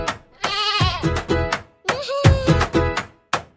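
Lamb bleats in a Tamil children's song: a series of wavering, nasal baa calls in two bursts, close and loud, with short gaps between them.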